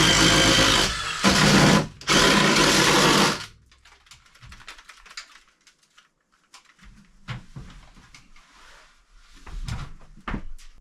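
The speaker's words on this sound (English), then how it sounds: "Got those 2 holes drilled." A power drill roars loudly in two long bursts, drilling two holes while building a small cabin in Alaska, with a short break between, then stops. Quieter clattering and handling noises follow.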